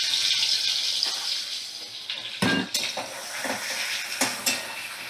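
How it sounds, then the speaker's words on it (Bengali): Prawns fry in oil in a pan with a soft, steady sizzle, broken by a few sharp clinks and scrapes of a utensil against the pan. "চিংড়ি মাছগুলো এবার আমি তেলের মধ্যে দিয়ে দিলাম"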